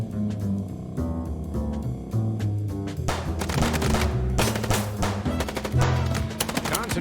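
Rapid bursts of gunfire in the video game Chicken Police, loud clattering shots in quick succession over a layer of game music, continuing steadily throughout.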